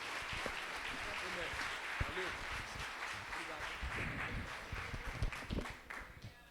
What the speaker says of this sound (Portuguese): Se você pode, aplauda ao Senhor Jesus.